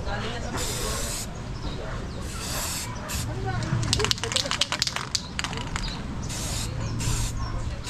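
Automatic spray from a new machine hissing steadily in loud bursts with brief gaps, close by, with crackling and rattling mixed in and people talking over it.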